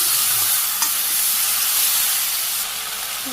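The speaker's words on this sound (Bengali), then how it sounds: "লবণ পরিমাণ মতো সামান্য একটু হলুদ এমন কষে নিন ভালো করে" Country chicken sautéing in a hot pan with salt and turmeric gives a loud, steady, close sizzling hiss that runs throughout with faint stirring.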